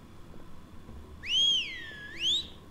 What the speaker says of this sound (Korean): 나 점프하려고 스페이스 눌렀는데 휘파람 불고 있네